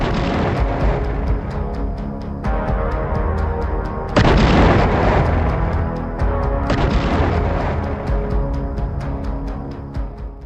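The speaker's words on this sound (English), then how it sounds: "Explosion after explosion followed in quick succession." FPV drones strike a Russian tank convoy, setting off a string of heavy explosions: loud booming blasts follow one another in quick succession, each bursting in and leaving a rumbling, crackling tail before the next.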